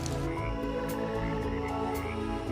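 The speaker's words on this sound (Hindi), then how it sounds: "इनके टर्राने की आवाज पूरे जंगल में गूंजती रहती है।" A chorus of male frogs in a forest croaks continuously in overlapping, pulsing mating calls, loud and dense, with no voices present.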